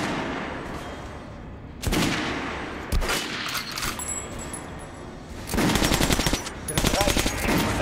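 Gunfire in Metro Last Light Redux at a shooting range: sharp single shots followed by longer rattling automatic bursts, loud and close, separated by short quieter gaps.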